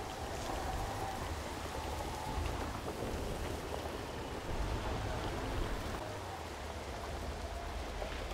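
Steady heavy rain with rumbling thunder in the survival horror game Chernobylite, set in Chernobyl; a dense, continuous downpour with low rolling thunder swelling underneath, no voices.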